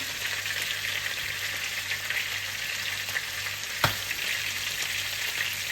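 Chicken cutlets fry in a pan in their own rendered fat with no added oil, giving a steady, close sizzle throughout with a single sharp tap near the end.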